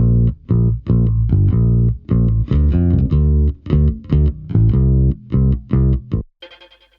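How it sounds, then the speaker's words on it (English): Bass guitar recorded direct in through a bass plugin plays the chorus part of a song, a loud close line of punchy, slightly driven notes in short rhythmic phrases, ending with a brief decaying tail. "The bass for the chorus sounds like this."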